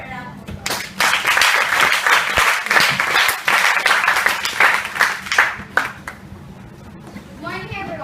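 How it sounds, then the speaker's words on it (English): Audience applause rings out in a room at a workplace diversity training event as the first speaker is welcomed, dense clapping filling several seconds before tapering off, with a brief voice near the end. "Let's give her a round of applause"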